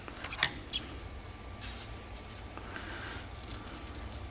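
Two quick snips of scissors near the start, cutting material during a carbon fiber mirror install on a car, followed by quiet room background.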